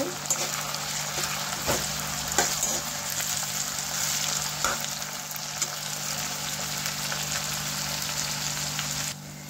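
Finely chopped tomato cooks in a pan for pasta, giving a steady soft sizzle and hiss with a few faint clicks, continuous and fairly close, ending abruptly.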